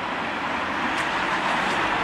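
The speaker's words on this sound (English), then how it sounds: "There's another car." A car, apparently a police car, is heard driving past as a steady roadway rumble and tyre hiss at moderate distance, with no clear siren.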